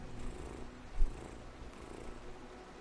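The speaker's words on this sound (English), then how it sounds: "Listen to the kitty." A cat in the video game Brothers purrs in a steady low rumble with a soft, continuous texture, fairly quiet and unbroken, with a slight bump partway through.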